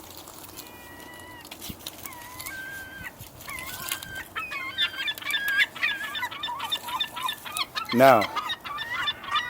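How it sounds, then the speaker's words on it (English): Marine birds calling along the shore at Dead Horse Bay, a mass of overlapping squawks and cries that grows denser and louder over a steady background hiss. "you could see that I am pretty much surrounded by marine birds. And if you can't see it, you certainly can hear it."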